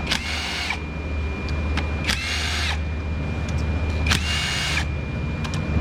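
A power tool buzzes in three short bursts, each under a second, backing out 10mm valve cover bolts on a GMC 2.4 engine, close by, with a low steady hum between bursts.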